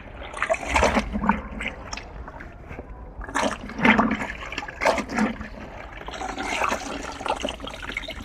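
Cloth pulled out of clean water in a bucket while washing clothes by hand, giving repeated wet splashing and dripping bursts that run through the clip, fairly close and moderately loud, with no talking.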